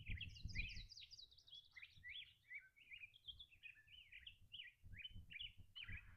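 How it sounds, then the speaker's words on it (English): Small birds chirp and twitter incessantly in rapid, overlapping phrases at a cliffside campsite on the Mogollon Rim, quiet but clear against faint low background rumble. "Those birds are incessant."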